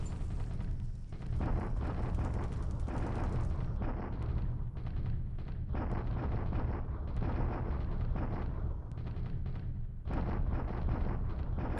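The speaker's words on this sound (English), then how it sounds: "I think our bombardment has a good chance of really doing some damage here today" A continuous artillery bombardment rumbles on in a Pacific war strategy game, forming a dense, loud wall of blasts and low booms with brief dips.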